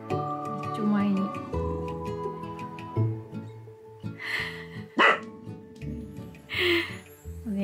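A Shiba Inu gives sharp warning barks at unfamiliar vehicles parked outside the house, several close, loud barks scattered among frequent talk.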